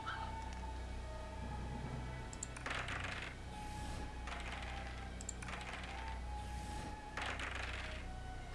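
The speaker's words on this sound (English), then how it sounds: "God, these dice rolls." Dice rolling in an indie RPG card game, several short clattering bursts spaced a second or so apart, each a quick rattle over a faint steady background hum.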